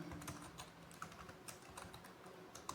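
Code is typed on a computer keyboard in quick, uneven bursts of soft clicks and taps, faint and close, with a few slightly sharper keystrokes and no talking.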